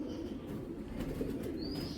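Racing pigeons coo softly nearby, low throaty murmurs over a steady background hum, with no one talking.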